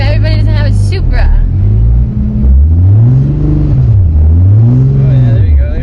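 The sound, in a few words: Toyota Supra engine revving as the driver gives gas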